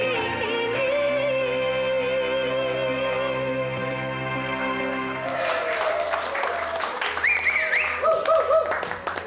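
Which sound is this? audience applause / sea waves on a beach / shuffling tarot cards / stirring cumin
audience applause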